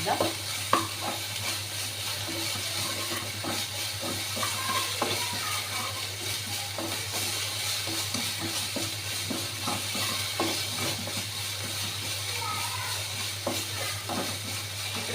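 Masala for cashew paneer curry frying steadily in a pan, a continuous close sizzle with occasional scrapes and clinks of a stirring spoon, no voices.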